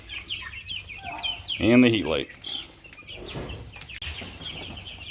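Young Red Ranger broiler chicks clucking and peeping in a brooder under a heat light, with one louder cluck near the middle, while someone talks quietly.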